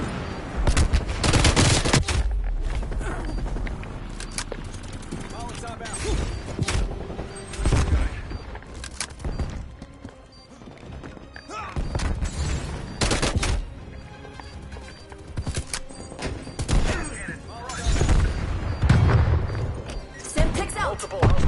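Black Ops Cold War combat with a Semtex grenade and gunfire: loud repeated bursts of automatic fire and booming explosions run throughout, with voices talking intermittently under the shooting.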